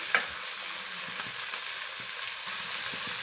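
Tomato pieces and garlic fry in a pan for paneer masala curry, a steady bright sizzle running throughout with soft stirring taps underneath.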